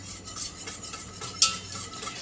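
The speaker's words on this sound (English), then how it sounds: "we're going to stir for a bit" Cake mixture is stirred in a pot on the stove over medium heat, with a soft continuous scraping of the spoon against the pot and one sharp clink partway through.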